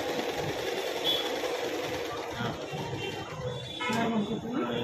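An Usha Stitching Queen zig-zag sewing machine runs steadily, its close mechanical whirring and rapid needle clatter continuing throughout at moderate loudness.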